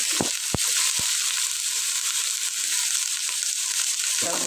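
Fish and mixed vegetables fry in a pan with a steady, loud sizzle and crackle throughout, broken early on by a few sharp knocks of a utensil against the pan.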